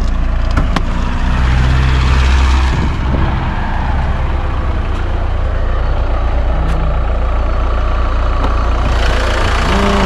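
A 1997 Volkswagen Passat B5 1.9 TDI diesel engine idles in a loud, steady low rumble close by, with a few brief clicks early on and no voices.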